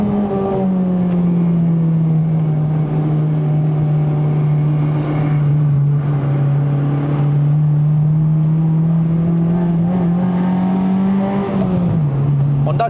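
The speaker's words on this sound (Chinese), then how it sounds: "就到5000转刚刚好，我现在的这个转速" A 2008 Honda Civic Type R FD2R engine holds a steady drone around 5000 rpm on a mountain run in Malaysia, loud and continuous with a slight dip near the end, while someone talks over it.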